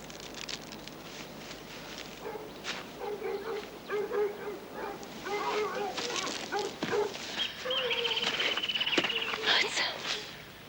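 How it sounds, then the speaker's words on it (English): Bloodhounds barking and yipping in the distance while tracking a scent outdoors, irregular bursts of barks growing busier toward the end, with a person speaking over them. "Bloodhounds, they've got a scent."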